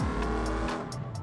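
A video-game rally car drives and steers with a loud, continuous engine drone and brief tire squeals, close up and with no voices over it.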